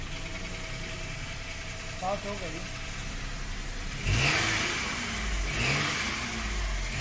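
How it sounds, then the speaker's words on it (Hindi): The engine of a 2010 Toyota Vitz with key start rumbles at idle, then revs up sharply twice in quick succession, loud and close, while someone talks briefly over it. "तो गाड़ी का साउंड भी चेक करते हैं"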